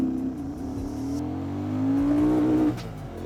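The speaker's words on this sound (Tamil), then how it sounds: "இப்போ ஃபர்ஸ்ட் கியர் கொடுத்து ஒரு லான்ச் கொடுத்து பார்ப்போம்." A vehicle launches on a highway in first gear, its engine note rising steadily as it accelerates, then easing off near the end, loud and close with no talking.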